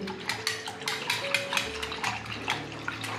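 Spoon stirring kadhi batter of buttermilk, besan, turmeric, salt and coriander in a pot, a steady rhythm of wet swishes and light scrapes against the vessel, close and moderately loud with no talk.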